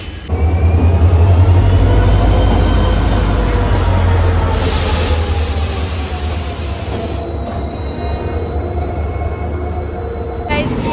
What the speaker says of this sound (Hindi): ये देख लो, ये चौथी ट्रेन जा रही है, चौथी ट्रेन